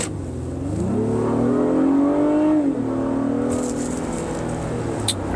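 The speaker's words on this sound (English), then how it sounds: "I can hear it revving really loud, and it's accelerating" An engine revs up loudly, its pitch rising and holding as the vehicle accelerates, then easing back to a steady drone.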